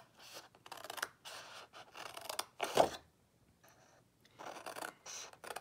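Scissors cut through scored card for a slimline card, a series of close, crisp snips and scraping strokes in short bursts separated by brief pauses, with no talking.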